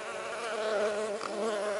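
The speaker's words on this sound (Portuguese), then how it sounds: "Bastante abelha em volta aqui, é muito bonito." Mirim guaçu stingless bees buzz steadily around their hive, a dense, continuous hum of many wings close by with no voices over it.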